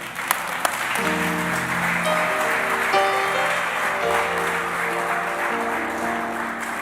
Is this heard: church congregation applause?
yes